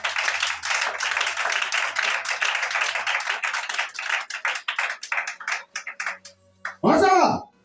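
A congregation claps during a church service, rapid dense applause that thins into scattered claps before a voice speaks at the end.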